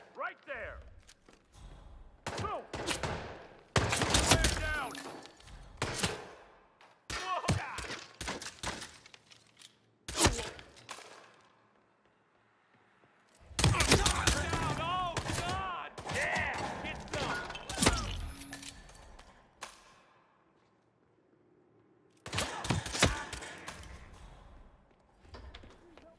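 Gunfire crackles in Hitman 3's Sarajevo Six missions in sharp, loud bursts separated by quieter gaps, with thuds and mechanical clatter between volleys and a faint background bed.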